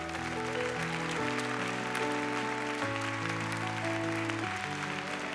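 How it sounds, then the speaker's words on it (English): A church audience claps steadily throughout a faith-healing moment at a sermon, the continuous applause heard alongside sustained organ or keyboard chords. "Come on, keep on clapping like God's awesome."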